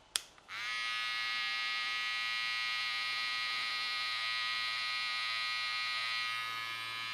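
An electric beard trimmer starts with a click and then buzzes steadily and loudly up close, a constant high-pitched motor whine that holds for several seconds before easing slightly at the end.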